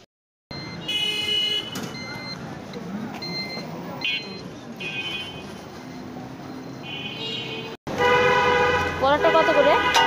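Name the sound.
street traffic with car horns while crossing the road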